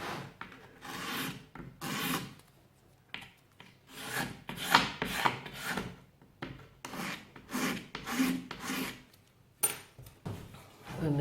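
Hand scraper rasping across burnt areas of painted wood in short, repeated strokes, fairly close and quiet, with brief pauses between passes.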